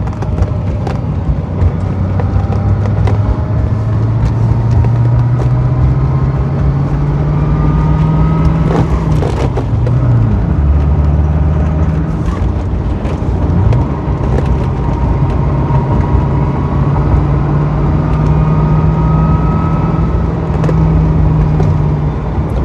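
A 1990 Chevrolet Corvette ZR1 cruising in second gear, its engine a loud, steady drone from inside the cabin with rising and falling pitch as it accelerates and eases off, continuous throughout with no talk.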